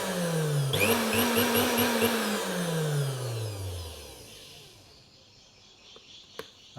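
A repaired Miyako blender whirs loudly up close, its motor surging and then winding down in falling pitch to a quiet hum, ending with a couple of small clicks.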